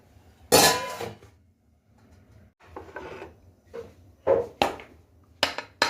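A pot lid lifted off a pan of chicken sauté with vegetables gives a loud scraping rasp, followed by several shorter metallic scrapes and knocks, close and otherwise quiet.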